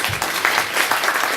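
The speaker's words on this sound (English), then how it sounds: "Maybe give a clap for everyone." Guests at a 50th birthday celebration clap together in a brief burst of applause, dense and fairly close, with no talking over it.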